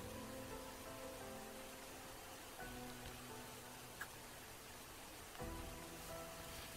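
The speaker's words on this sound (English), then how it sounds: "Hopefully the rain stops." Rain falls steadily in the video game Gladiator Management Simulator, a soft, faint, continuous hiss with a few tiny clicks and no voices.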